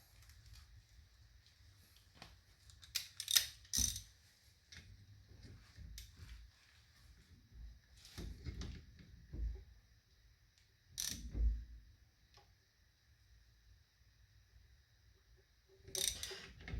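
A ratchet clicks in short scattered bursts while tightening brake caliper bolts on a Jeep, with quiet pauses and some faint metallic handling between the runs of clicks.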